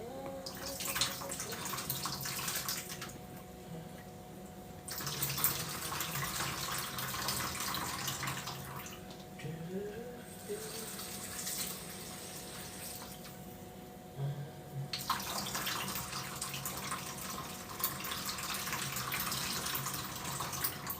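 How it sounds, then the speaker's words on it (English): Water runs from a kitchen tap as vegetables are rinsed, a steady hissing stream broken by a few short changes in flow, with no voices. "Let's rinse that off."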